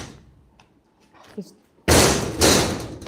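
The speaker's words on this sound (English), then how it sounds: "Kick that door with your plucky foot." A stable door on a horse yard is kicked shut with a sudden loud bang and rattling thud, after a quiet stretch with a few faint taps and a brief voice.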